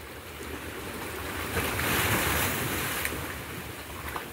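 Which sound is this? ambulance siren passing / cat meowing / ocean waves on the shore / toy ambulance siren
ocean waves on the shore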